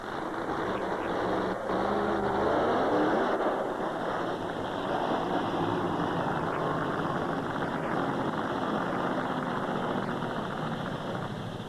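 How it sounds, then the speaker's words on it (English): A jumping combine harvester's engine roars at an outdoor show before a ramp jump, a steady low rumbling drone with slight swells, moderately distant, with no voices. "As a hush comes over the crowd, the roar of the engine increases"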